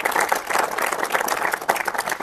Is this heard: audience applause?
yes